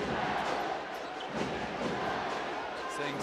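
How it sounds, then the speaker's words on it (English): Arena crowd at a FIBA Asia Cup 2013 basketball game between the Philippines and Chinese Taipei, a dense sustained roar of many voices with rhythmic chanting swells, heard at a distance without close speech. "Defense is the cry from the crowd."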